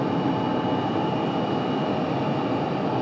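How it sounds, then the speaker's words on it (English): A United Boeing 737 MAX 9 jet taking off from runway 23 right, a steady broad engine roar holding at constant loudness throughout with no voices. "All right, United 1769, they're off to SFO, a 737 MAX 9."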